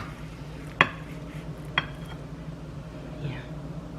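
A knife slices through a chicken taco pie in its baking dish, giving two sharp scraping clicks against the dish followed by a softer scrape, close by and quiet.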